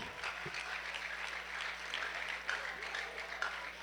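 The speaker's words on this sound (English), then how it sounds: "A round of applause for them." A class of students claps for classmates during an etiquette lesson, a fairly quiet, steady patter of applause with a low hum underneath.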